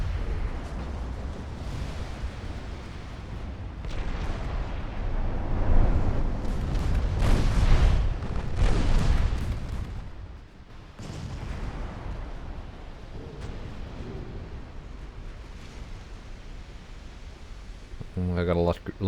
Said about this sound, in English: And Casabianca takes a bunch of torpedoes.